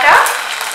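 Ginger paste hits a pan of hot oil with bay leaf and whole spices, giving a sharp, loud burst of sizzling that quickly settles into steady frying.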